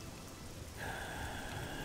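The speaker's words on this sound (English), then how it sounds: "it's annoying the rain hasn't let up." Steady rain pouring in the video game The Elder Scrolls: Oblivion, a dense continuous hiss of falling drops that grows a little louder partway through, with no talking.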